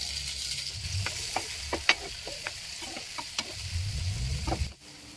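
Tomatoes frying and sizzling in a pan for soybean curry, with steady sizzle and occasional clicks of stirring, close up, fading out at the end.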